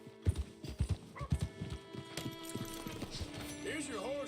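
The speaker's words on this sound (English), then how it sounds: "My horse! Am I glad to see you?" A horse in the Red Dead Redemption 2 video game clops its hooves in a short series of sharp hoofbeats, then lets out a high whinny near the end, with faint voices in the background.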